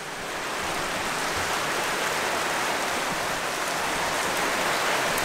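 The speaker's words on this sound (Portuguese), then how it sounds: "tá chovendo dona Aninha" A heavy downpour pours steadily outside a home, a dense, even hiss of rain that swells slightly at the start and then holds loud and constant, with no voices.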